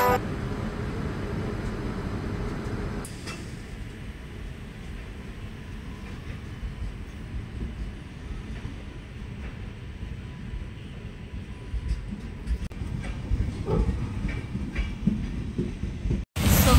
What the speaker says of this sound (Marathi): फायनली मी ट्रेनमध्ये बसले आहे आणि खूप जास्त आवाज येतोय